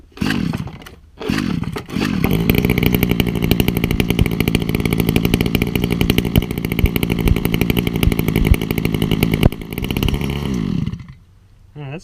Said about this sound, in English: It's a 22cc engine